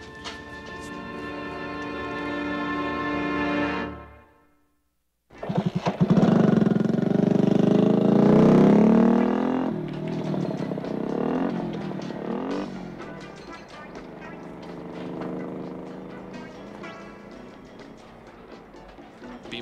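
A motorcycle engine runs with a steady harmonic drone, cuts out briefly, then roars back loud and close, revving and settling into a rough, fluctuating run that continues to the end.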